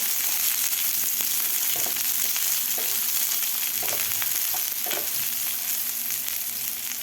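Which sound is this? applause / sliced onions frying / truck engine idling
sliced onions frying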